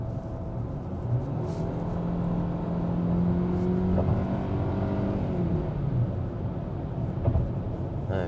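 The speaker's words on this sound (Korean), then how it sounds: "이 정도 가속감이면, 엔진 소음이 좀 있긴 한데" A small hatchback, a Chevrolet Spark or Hyundai Avante, accelerates hard to overtake in the passing lane, its engine note climbing and droning loud from inside the cabin over road noise.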